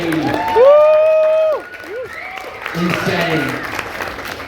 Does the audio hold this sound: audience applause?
yes